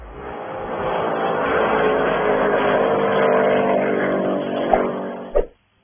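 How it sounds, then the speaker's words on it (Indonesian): A recreational speedboat engine drones steadily in a loud, even roar for about five seconds, then thumps and cuts off abruptly. "Sebenarnya speedboat yang satu ini tujuannya buat sarana rekreasional aja sih"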